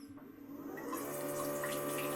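A bidet toilet's wash function sprays water, starting with a quiet hum and then building into a steady, close hiss of spraying water that continues at an even level.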